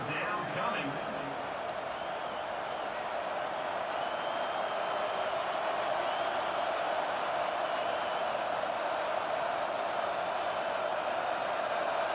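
A stadium crowd roars steadily in College Football 25 during an Illinois Fighting Illini vs. Nebraska Cornhuskers game, a constant broad wash of cheering that holds for the whole stretch beneath a commentator's talk.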